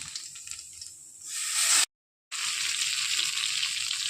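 Boal fish sliding into hot oil with black cumin in a home kitchen pan, a steady hissing sizzle that swells loudly, cuts out briefly, then resumes strong and constant.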